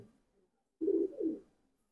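A Jabra pigeon gives a single close, soft two-part coo, low and throaty, alone in an otherwise quiet space.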